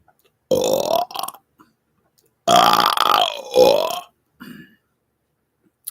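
Two long, loud, deliberate burps from a person, each with a gurgling throaty roll, close up and separated by silence, followed by a short softer grunt.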